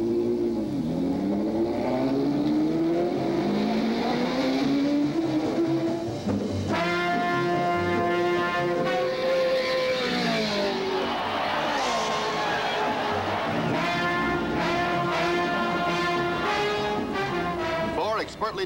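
A race car laps the Indianapolis 500 track during 1965 qualifying. The loud engine note swells and falls in repeated pitch sweeps as the car passes, with a steady roar continuing throughout.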